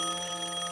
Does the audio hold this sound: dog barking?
no